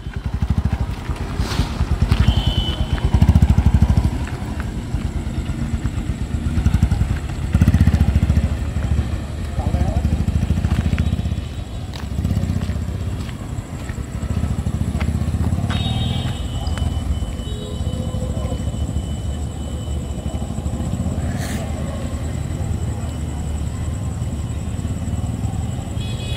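A motorcycle rides slowly nearby during a beginner's first riding lesson, its engine giving a low, steady rumble that swells and fades as it moves off, with people talking over it.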